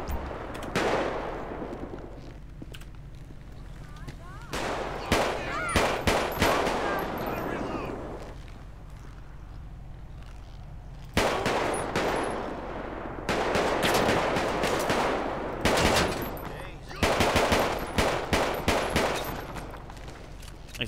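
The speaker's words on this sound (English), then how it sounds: "shots fired by the police. Shots fired by the police." Repeated bursts of gunfire from a police shootout in GTA V, with rapid volleys clustered in loud bursts separated by brief lulls, close and dense throughout.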